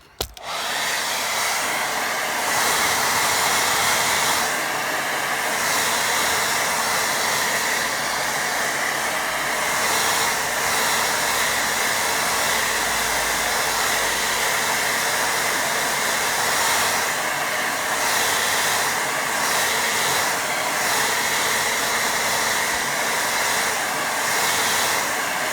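A hair dryer blows steadily on a watercolour painting of a snowy scene, a continuous loud whooshing hum that runs unbroken for the whole stretch with only slight shifts in pitch as it moves.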